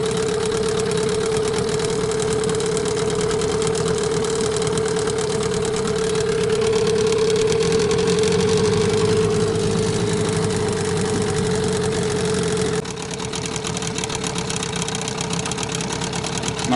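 A new Mikatsu 9.8 outboard motor idles steadily at low revs, a loud, close, continuous droning hum with a slight knock-like pulse and a small drop in level near the end.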